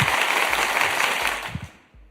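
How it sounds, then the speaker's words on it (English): A round of applause for a tournament underdog, a steady broadband wash of clapping with a few low thumps, holding evenly before cutting off abruptly near the end. "So everybody, I want to give him a round of applause."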